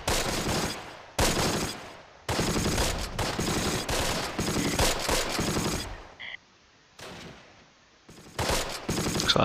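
Machine guns fire in the video game Close Combat: Last Stand Arnhem: loud, rapid bursts of automatic gunfire, several separate volleys broken by short quiet gaps, with a couple of fainter distant shots between them.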